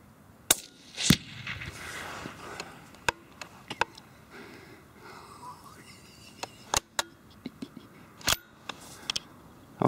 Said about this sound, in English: that's the Firebird target, and the 17 HMR, quite a flat shooting round